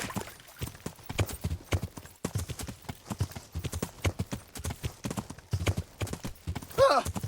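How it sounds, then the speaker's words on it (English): Rapid, rhythmic clip-clop of horse hooves throughout, from the video game KCD, with a brief whinny near the end. "Learn how to ride a horse."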